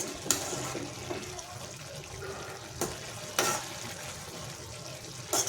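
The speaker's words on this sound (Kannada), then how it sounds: "ಹೀಗೆ ಒಂದು ಹೈ ಫ್ಲೇಮಲ್ಲಿ ಕುದಿಯಾಕ್ಬಿಟ್ಟು ಆಗಾಗ ಸ್ವಲ್ಪ ತಿರುಗಿಸ್ತಾ ಇರಿ ನೀಟಾಗಿ" Shavige uppittu, a vermicelli dish, boiling in a pan on high flame, a continuous close watery bubbling and sizzle with occasional louder scrapes and splashes as it is stirred.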